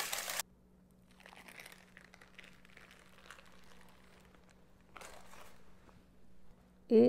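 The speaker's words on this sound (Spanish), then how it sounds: "Vamos a quitar los papeles." Parchment paper is peeled off an upturned sponge cake, with soft crinkling and rustling through the middle and a couple of louder crackling bursts at the start and near the end, close and quiet.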